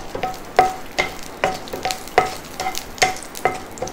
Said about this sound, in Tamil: பூண்டையும் பச்சை மிளகாயும் முதல்ல சேர்த்து வதக்கணும்.